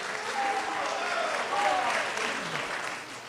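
Applause swells from the audience at a California 13th Congressional District debate. It is a moderate, continuous patter of clapping that fades slightly toward the end, with faint voices mixed in.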